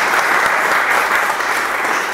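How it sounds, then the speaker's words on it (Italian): An audience at a literary reading in a garden applauds, a brief, steady burst of dense hand clapping from a sizeable crowd, close and fairly loud without talk. "Francesca Pozzo e Margherita Maglione, facciamogli un piccolo applauso."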